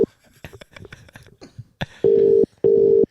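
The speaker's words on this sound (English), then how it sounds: "Pick up the phone, Buckethead." A telephone line gives two steady electronic beeps of equal length with a short gap between them. Faint clicks and taps come just before the tones.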